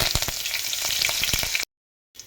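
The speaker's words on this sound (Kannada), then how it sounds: "ಆಯಿಲ್ ಚೆನ್ನಾಗಿ ಕಾಯಲಿ ಈಗ ಸಾಸಿವೆ ಹಾಕ್ಕೊಳ್ಳಿ" Mustard seeds, cumin and curry leaves sizzle and crackle steadily in hot oil for a palak rice tempering, with sharp popping bursts throughout, then a sudden silence and a brief return of frying noise.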